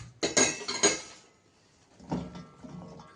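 Cauliflower pieces for Gobi Manchurian being stirred into a cornflour and maida batter in a bowl, a cluster of clattering, clinking utensil hits against the bowl, a pause, then a softer second round of stirring.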